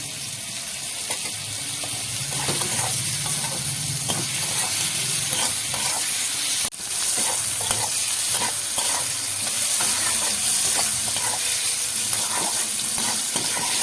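Goat fat melting and sizzling in a hot pan, a dense continuous frying hiss with scattered stirring scrapes and clicks, close and steady throughout.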